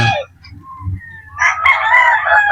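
Pure Boston Roundhead gamefowl on display crow and cluck nearby: low clucks at first, then a loud, drawn-out crow filling the second half, with no talk over it.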